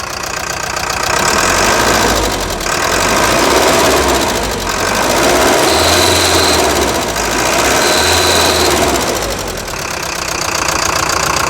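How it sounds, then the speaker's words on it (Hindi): Tata 1109 BS3 diesel truck engine revved hard and held, a loud continuous knocking roar that swells and eases in several long surges, close up with no talk over it. "ये गाड़ी स्टार्ट है और इसको अब हम रेस करके देखते हैं।"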